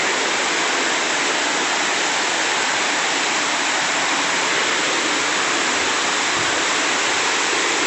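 Khun Korn, a single-tier waterfall in a Chiang Rai forest, pours with a dense, steady roar of falling water that fills the whole stretch, loud and constant with no voices.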